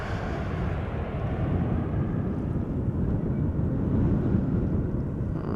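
An airliner's thrust reversers roaring at Schiphol Airport, a steady, broad, distant rumble with wind noise throughout and no clear peaks.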